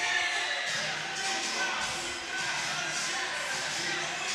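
Sold-out crowd inside Horsch gym at a college women's volleyball match, a sustained broad roar of cheering and chatter, loud and steady throughout.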